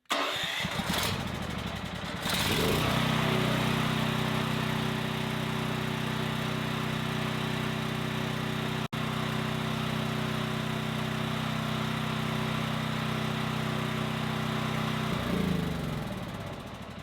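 A Champion 7500-watt dual fuel generator running on propane is choked, cranks and starts at about 2.5 seconds. It then holds a loud, steady engine drone for over twelve seconds and winds down near the end, with no voices.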